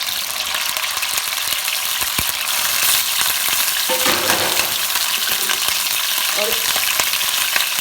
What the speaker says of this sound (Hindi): अब हम इसमें चिकन को फ्राई करेंगे